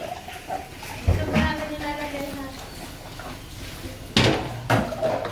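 Dishes, pots and pans clatter and clank during a team-building dishwashing challenge, with several sharp metallic knocks against a noisy background of chatter and voices.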